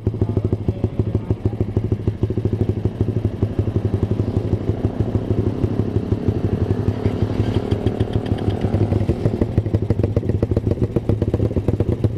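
Suzuki Satria FU motorcycle exhaust during a ride, a loud, continuous raspy engine note with rapid rhythmic pulsing throughout and no talking.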